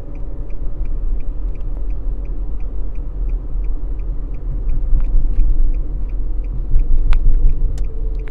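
Steady low engine rumble of a car on the road during a driving lesson, gradually building in the second half with a faint rhythmic ticking above it; no talking.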